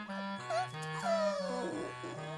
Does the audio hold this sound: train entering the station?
no